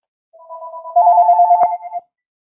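A telephone rings once, a single clear electronic trill lasting under two seconds, loud and close, followed by silence.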